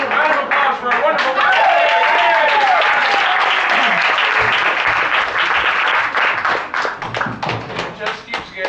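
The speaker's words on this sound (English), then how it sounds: "Round of applause for a wonderful" An audience at a comedy show breaks into applause and brisk clapping, rising over lively voices and crowd noise, then thinning into scattered claps and thumps toward the end.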